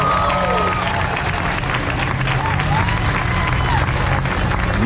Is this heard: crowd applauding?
yes